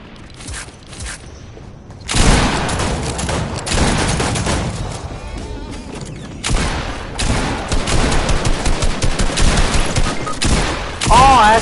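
Loud rapid gunfire bursts from a video game shooter in squad play, dense overlapping shots and mechanical clatter filling most of the stretch, with a quieter lead-in before the firing erupts.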